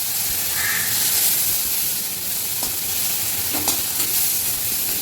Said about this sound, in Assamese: ধুনীয়াকৈ ভাজি আছে তেওঁ অকণমান দেৰি ভাজিব লাগে